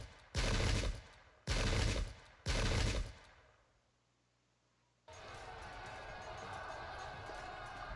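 Musket salvo volleys in the Pike and Shot battle game, Danes against Swedes: three loud, evenly spaced bursts of massed gunfire, a brief lull, then a sustained rumble of battle noise.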